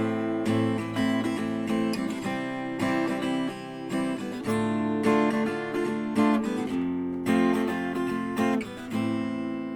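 Steady acoustic guitar strumming through a chord progression, full and ringing, in an even rhythmic pattern with no voice.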